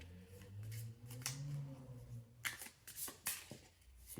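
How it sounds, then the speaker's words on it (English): Tarot cards shuffled by hand, a run of crisp riffling bursts and soft slaps, the later ones sharper and closer, over a faint low hum with no talking. "So you can hear me shuffle the cards."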